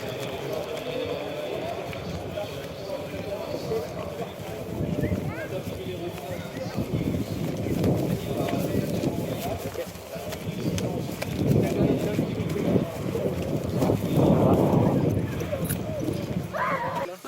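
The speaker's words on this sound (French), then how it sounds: "Là, il va faire un petit galop de présentation, un peu pour chauffer son cheval." A racehorse canters in a warm-up gallop before a race, with muffled hoofbeats and broad outdoor rumble beneath continuous commentary.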